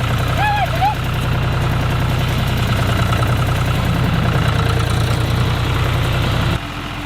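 A farm tractor's engine runs loudly and steadily at close range with a throbbing idle. A brief chirp rises early on, and the engine noise drops suddenly near the end.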